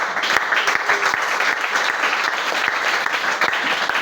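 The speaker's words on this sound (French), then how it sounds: "Est-ce que vous pouvez acclamer pour le Seigneur?" A church congregation breaks into steady, sustained applause with scattered cheering, a dense wash of clapping hands filling the room evenly from start to finish with no speech over it.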